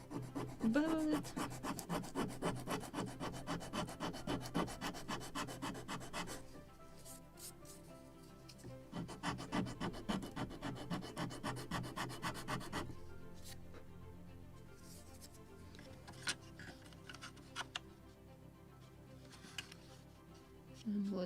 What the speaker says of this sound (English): More sanding right here and the very end.